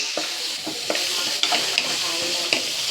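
Pancit bato noodles with pork stirred in a frying pan, giving a constant close sizzle broken by several quick scraping strokes of a utensil against the pan, with no talking.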